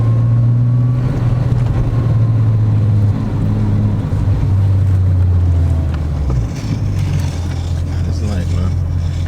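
A Mk2 VW Jetta with a swapped-in VR6 engine drones from inside the cabin on the move, a steady low hum that shifts pitch as the car slows and picks up again, with road and wind noise and people talking over it.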